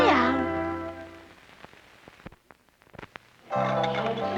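Cat meowing in a late-1970s or early-1980s Meow Mix cat food commercial: a loud, close, rising meow at the start, a quiet gap with faint clicks, then a second strong meow at the end.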